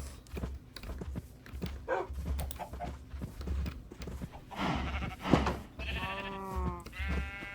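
Minecraft sheep bleat several times, short wavering calls over soft in-game background sounds, growing louder and more tonal toward the end.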